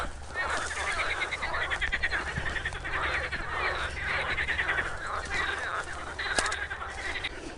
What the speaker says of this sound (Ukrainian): послухаємо жабів. Жаби тут чудові.